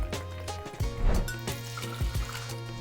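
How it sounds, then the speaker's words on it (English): Two ounces of bourbon pour into a cocktail glass for a Kentucky 75, a close liquid trickle and splash lasting a few seconds with light clinks. "I'm adding in 2 ounces of bourbon."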